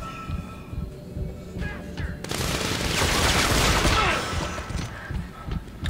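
Gunfire in the Dead Space 3 video game: a loud, dense burst of rapid shots and crashing impacts swells for about two seconds amid rumbling background noise, close and harsh.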